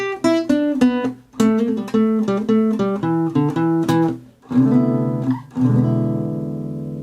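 Acoustic guitar plays a quick blues lick at full tempo, crisp picked notes and bends ringing out, ending on sustained chords.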